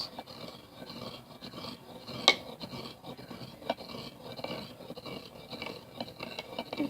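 Slime mixture with borax being stirred in a bowl, a soft continuous rasping and rubbing texture with a couple of sharp clicks, steady and close throughout.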